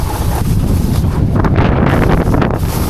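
Steady outdoor wind buffets a microphone at a skate park, a loud continuous rumbling roar with no speech over it.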